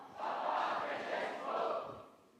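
Crowd at a Catholic junior college awaiting Pope Francis cheering and chanting Papa Francesco, two swelling waves of massed voices rising and falling, fairly close and loud.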